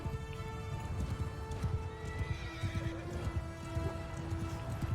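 Cavalry horses charging in a Game of Thrones–themed Bannerlord battle: dense, continuous clip-clop of many hooves with scattered neighs and whinnies over a low rumbling mass of movement, steady and loud throughout.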